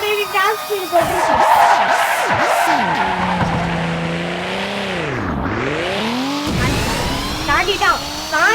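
A Roblox racing game car at top speed, with a synthetic engine tone sweeping up and down through gear-like pitch changes and a tire-skid screech, under background game effects.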